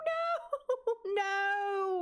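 A cat yowls and caterwauls in a Sims game as a dog named Maggie attacks the cat Miso, with a long drawn-out wail, short choppy cries, then a sustained loud howl, alone without talk.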